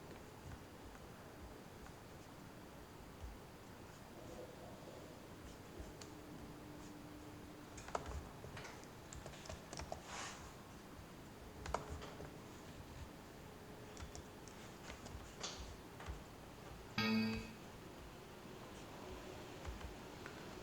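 Keys on a computer keyboard are tapped in quick, light bursts while a MySQL password is entered, scattered soft clicks over a quiet room with one sharper knock near the end.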